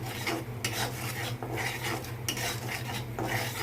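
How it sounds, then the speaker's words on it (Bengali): Chilli powder, turmeric and salt go into a pan of oil for a Bengali singi fish and gourd-leaf dish, followed by soft rhythmic scraping and stirring with a few utensil knocks against the pot. "সব ঢেলে দিব একসাথে।"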